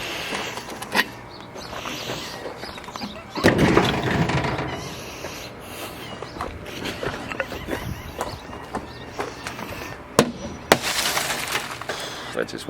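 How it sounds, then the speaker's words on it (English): Glass being broken off a piece of scrap headed for the dump, with sharp cracking and clattering bursts in a loud outdoor scrapyard setting, strongest near the start and again toward the end. "I guess I can just throw this in there, break the glass off, because that's going to the dump anyway."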